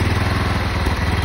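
A lawn tractor engine runs steadily up close, a loud continuous idle with a low rhythmic thrum and no voices.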